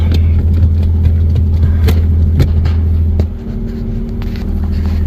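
A 3.5-litre V6 in a six-speed Nissan Altima coupe with about 103,800 miles idles close by, a steady deep rumble with light ticking over it and a slight dip partway through.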